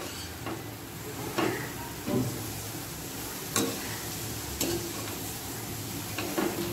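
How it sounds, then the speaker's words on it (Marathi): Chopped pumpkin leaves and dill leaves are stirred in a hot pan, a low sizzle broken by several sharp spatula clicks and scrapes at irregular intervals, no speech. "आता चिरून घेतलेली भोपळीची भाजी घालायची, त्याचबरोबर शेपूची भाजी घालायची आणि भाजी छान मिक्स करून घ्यायची।"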